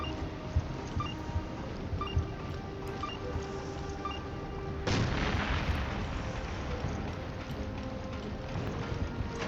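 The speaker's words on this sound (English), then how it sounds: "I just threw the grenade." A grenade blows up in the game Resident Evil: Revelations, a sudden loud burst about halfway through that leaves a rumbling wash over continuous watery, rain-like ambience.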